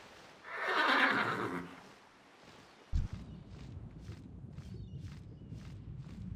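A horse in World of Warcraft Classic lets out a loud, drawn-out whinny, then hooves clop in a steady walking rhythm close by, with no talking.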